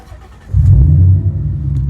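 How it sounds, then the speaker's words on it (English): A Ford Mustang GT 5.0 engine cranks and catches, then settles into a loud, steady low rumble at close range. "Let me start it up for you guys. I'll show you how it sounds."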